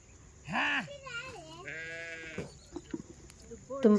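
Several sheep bleat in a flock on a farm, a few clear wavering calls rising close by over a quiet background, with a person's voice also heard speaking.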